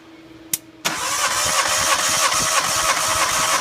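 A Suzuki Swift 1.3 16-valve engine cranks for a compression test: a sharp click, then a loud, steady starter whir with a rapid rhythmic chug continuing to the end, close by with no talk.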